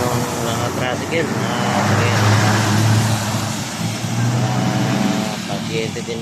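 Busy road traffic crowded with tricycles, engines droning and buzzing past at close range, a continuous loud mix of motors and road noise with people talking over it.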